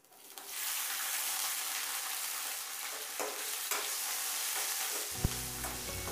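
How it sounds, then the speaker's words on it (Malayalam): Slit green chilies dropped into hot oil for a North Indian green chili masala, a steady loud hiss of frying that fills the whole stretch, with a few light pan knocks near the end. "അടുത്തതായി നമുക്ക് ഇതിലേക്ക് നടുവ് കീറി വച്ചിരിക്കുന്ന പച്ചമുളക് ചേർത്ത് കൊടുക്കാം."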